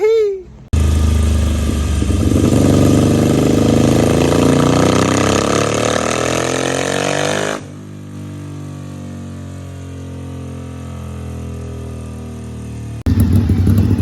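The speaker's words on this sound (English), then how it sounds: "the 848 is getting dyno tuned" A Ducati 848 motorcycle runs on a dyno, its engine revving hard and climbing steadily in pitch for several seconds, then dropping abruptly to a lower steady run before surging loud again at the end.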